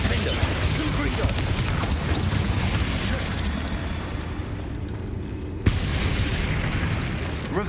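Confringo fire spell in Hogwarts Legacy bursting into a rumbling explosion, a dense boom and crackle that cuts off sharply, followed by a second impact and renewed noise, with speech around it.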